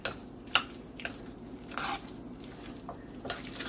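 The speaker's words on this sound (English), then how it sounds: "Stir that in." Diced onion is stirred into a thick taco dip, giving soft wet squishing and spoon scrapes in irregular bursts close by, with a faint background hum.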